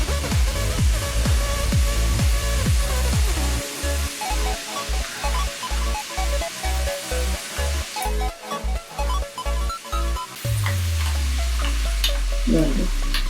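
Jaggery gavvalu sweets fry in hot oil with a steady, dense sizzle, while a spoon stirs through them in a run of quick rhythmic strokes midway, close and loud throughout.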